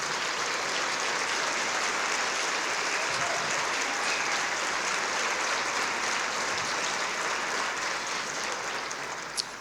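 Sustained applause from a large crowd at a city address fills the room, a dense, even clapping that holds steady for nearly ten seconds before a final louder clap.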